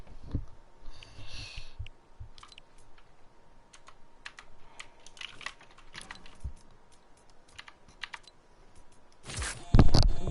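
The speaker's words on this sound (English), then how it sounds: "let me know if my keyboard's a little too loud" Rapid clattery typing on a computer keyboard at a gaming PC setup, keys tapping in irregular bursts close to the mic, with a louder cluster of clicks near the end.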